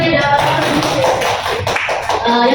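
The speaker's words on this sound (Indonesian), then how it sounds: "Tepuk tangannya dong" People in a classroom clap together in a loud, close burst of applause, uneven taps with voices chattering over it.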